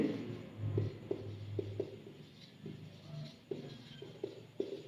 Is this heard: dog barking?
no